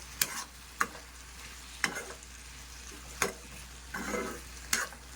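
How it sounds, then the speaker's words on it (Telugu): Leftover vegetables and potatoes fry slowly in a pan on low heat. A soft, steady sizzle runs throughout, broken by a few sharp stirring clacks spaced apart. "ఇది సిమ్ మీద పెట్టేద్దాం. మెల్లింగా ఫ్రై అవుతూ ఉండిద్ది."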